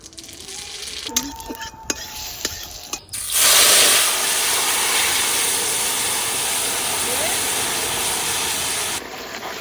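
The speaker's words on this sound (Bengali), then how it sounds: "এখন ফোড়নে দেবো শুকনো লঙ্কা আর রাঁধুনি" Dry red chilies and radhuni seeds hit hot mustard oil with a sudden loud, hissing sizzle that holds steady after a few clattering knocks at the start.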